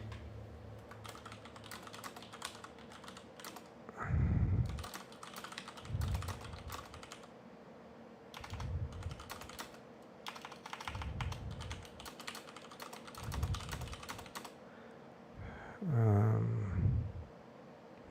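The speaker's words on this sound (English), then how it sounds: "let me type in something." Fingers type on a computer keyboard in a run of quick, close clicks, with soft low thumps in between and no talking.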